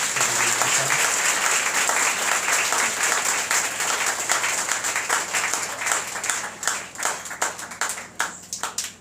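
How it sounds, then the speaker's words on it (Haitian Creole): A church congregation applauding, dense sustained clapping from many hands that thins toward the end into scattered individual claps. "Si vous êtes content pendant tout le jour, ça applaudis Jésus après le silence."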